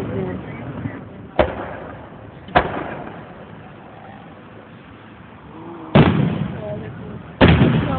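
Fourth of July fireworks bursting outdoors: four sharp booms spaced a few seconds apart, each with a rolling tail, over a low background murmur of people.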